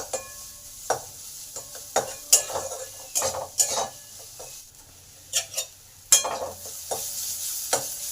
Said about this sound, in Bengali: এই আদাটাকে ভালো করে পেঁয়াজের সাথে ভেজে নেব।